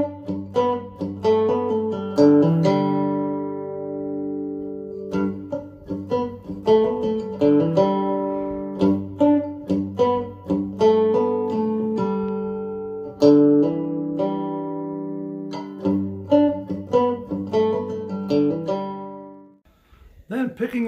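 A three-string cigar box guitar plays a twangy riff with hammer-ons, plucked notes and short phrases repeating with brief pauses, ringing clearly alone and close up before fading near the end.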